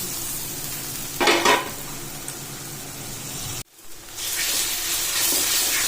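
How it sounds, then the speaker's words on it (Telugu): Ginger garlic paste, peas and carrot fry in oil with browned onions for a puri aloo kurma, a steady close sizzle broken by a brief stirring scrape, a short drop to near silence, then a louder renewed hiss. "అల్లం వెల్లుల్లి పేస్ట్, బఠానీ, క్యారెట్ ఇదంతా బాగా ఆయిల్లో ఇది ఈ విధంగా ఫ్రై అవ్వాలి"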